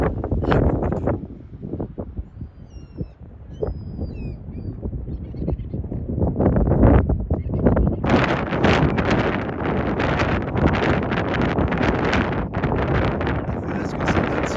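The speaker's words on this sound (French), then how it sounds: "il y a beaucoup de vent." Strong wind roars across the microphone on a high hilltop, gusting loudly and continuously in heavy buffeting bursts that grow stronger in the second half, with no talk.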